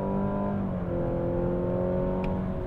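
A Mazda CX-80 engine accelerating hard in sport mode, a steady loud drone with rising harmonic tones as revs build, heard continuously from inside the car with no talk.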